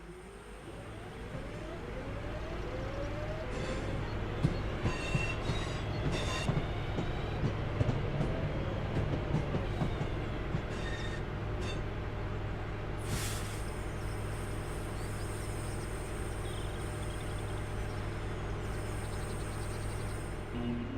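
A train in the Train Sim World 4 game coasts on level ground with the throttle at zero, a steady low rumble with faint wheel clatter and a few hissing brake-like bursts, running continuously and fairly close.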